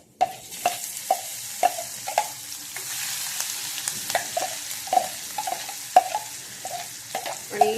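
Ground masala with cumin sautés in oil in a kadhai for sukki dal. A soft frying sizzle runs under repeated rhythmic taps and scrapes of a stirring spoon against the pan.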